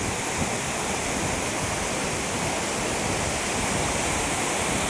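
Amboli waterfall in the Western Ghats, Maharashtra, swollen in the rainy season, roars in a dense, steady rush of falling water that fills the whole moment without a break.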